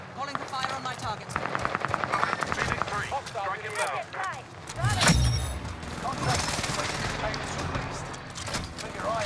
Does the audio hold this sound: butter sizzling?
no